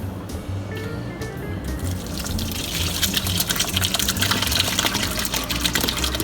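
Cheese curds and whey for farmers cheese or paneer poured through a flour sack into a colander, a steady splashing, trickling pour that grows fuller and louder toward the end, close by with no talk.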